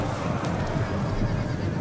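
Cavalry horses of the Hellenic Royal Cavalry in a Total War Rome 2 battle, with a brief whinny and hoof noise buried in a dense, steady wash of battlefield ambience.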